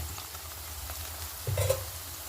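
Onions with ginger garlic paste frying in a pan, a steady low sizzle throughout with a brief stirring scrape near the end, fairly quiet and close.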